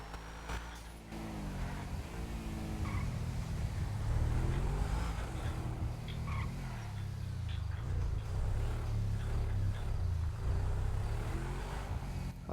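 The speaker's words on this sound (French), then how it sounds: "C'est quoi cette voiture là qui est arrivée à fond?" A car in a video game speeding in at full throttle, its engine droning loud and steady with a rising rev and a sustained rumble that carries on throughout.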